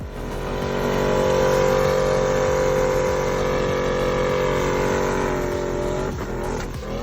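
Twin-turbo LS V8 in a lowered Chevrolet C10 truck running steadily close by, a loud, even engine drone with a rising rev, then a brief change in tone near the end.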